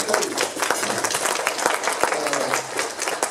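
An audience at a talk on preventing elder investment fraud applauds steadily for the whole stretch, a dense, even wash of clapping with a few sharper individual claps standing out.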